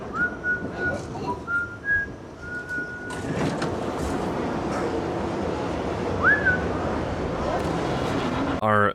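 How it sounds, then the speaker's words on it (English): Someone whistles an infamous tune aboard a subway train in a horror film, a few thin melodic phrases over rumbling carriage noise, with a screech near the end. "they start whistling the old infamous tune"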